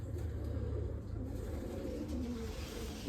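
Racing pigeons coo softly inside their box, low repeated murmuring calls amid faint background noise, with no talk.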